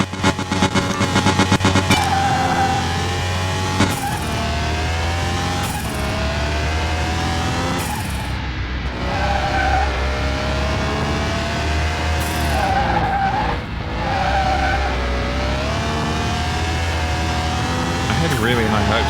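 A turbo car in Car Mechanic Simulator revs hard and skids, its engine droning loudly with repeated tire squeals and gear shifts as it corners, while someone talks over the racing noise.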